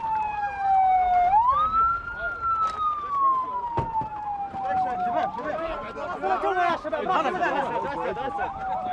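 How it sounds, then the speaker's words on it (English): An ambulance siren wails and sweeps up and down as it rushes in on a street at the front line in Gaza, loud and close, with someone talking over it and crowd chatter behind. "an ambulance screeches in to pick him up"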